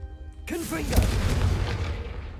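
A Confringo fire spell in Hogwarts Legacy: after a short vocal call, a loud booming blast bursts out and rumbles with crackling debris that slowly fades.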